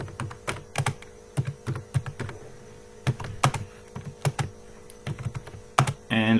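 Computer keyboard typing in quick, irregular bursts of close keystrokes while entering C++ code, ending with a brief noise.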